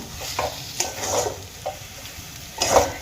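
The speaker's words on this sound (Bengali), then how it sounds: "এবার ধনেপাতা কুচিগুলো আমি আলুর সঙ্গে মিশিয়ে নেব" Chopped coriander being stirred into a spiced potato filling for Bengali aloo kachuri, giving a few soft scraping stir strokes with light sizzle, close and fairly quiet, no talking.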